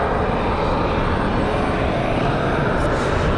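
Southwest Boeing 737 MAX 8 jet engines at Raleigh-Durham airport on a windy day, a loud steady broadband roar that fills the whole stretch without a break, close and constant with no talk over it.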